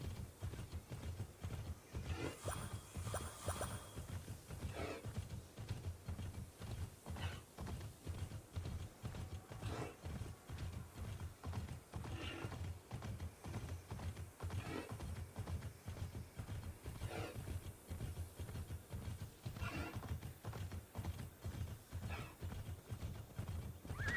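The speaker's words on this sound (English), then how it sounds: "Horses!" Steady rhythmic hoofbeats clip-clop continuously at a trot, with occasional horse whinnies breaking through, all at a low, even level, from the video game Immortals Fenyx Rising.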